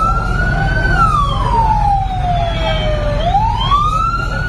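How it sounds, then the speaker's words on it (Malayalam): An ambulance siren wails as the vehicle runs with lights on along a road, a loud close sweeping tone rising and falling slowly over a steady road rumble, with no voices. "സൈറനും ലൈറ്റും ഇട്ട് വന്ന ആംബുലൻസിന്"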